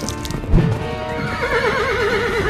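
A horse neighs loudly and close, a wavering whinny rising after a brief thump, with hoof noise underneath.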